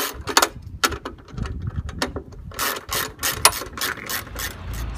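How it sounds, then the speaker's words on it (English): A hand ratchet with a 9/16 socket backing off frame bolts on a small sailboat trailer, clicking in quick irregular bursts of pawl ratcheting, close and clear with short pauses between strokes. "So now just unhooking the frame, same thing, 9/16 socket on either side of the trailer."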